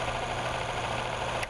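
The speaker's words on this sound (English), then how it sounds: "we'll simulate a cold start on an engine by removing the oil supply" An electric motor-driven engine runs in a simulated cold start with its oil supply removed. It gives a steady, fairly loud idling drone and vibration, then dips slightly right at the end.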